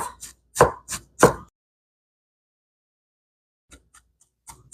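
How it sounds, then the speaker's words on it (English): Steamed broccoli being chopped into tiny pieces on a board, four crisp knife thunks in quick succession, then a pause and a few fainter taps at the end. "Cut it up into tiny, tiny pieces."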